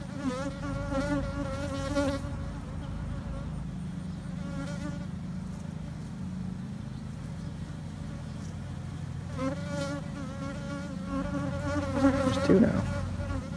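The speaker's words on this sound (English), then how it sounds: "there's a bee just all over me. You can hear her." A honey bee buzzing close around a beekeeper beside the hive, a loud wavering drone that swells and fades as she circles near, with a second surge of buzzing toward the end.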